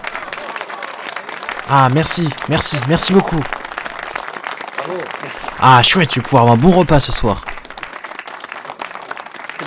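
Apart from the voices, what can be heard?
audience applauding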